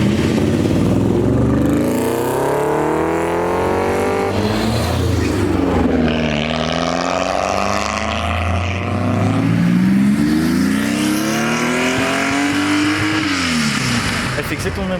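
A Lamborghini Huracan STO on launch control, its engine droning and rising through loud sweeping revs, with people talking over the engine noise close by.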